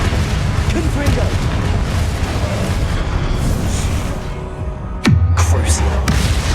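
A Confringo fire spell bursts in Hogwarts Legacy, a sudden loud blast late in the clip that rolls into a heavy rumble over busy ongoing game noise.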